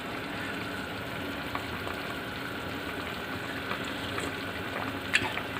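Chicken sinigang soup boiling in a pot, a steady bubbling simmer with soft crackle and occasional small pops, close and alone.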